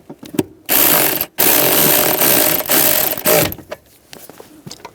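Ratchet clicking rapidly as bolts are tightened on a 2004-2009 Toyota Prius blower motor, loud close bursts of rattling pawl with a short pause between runs.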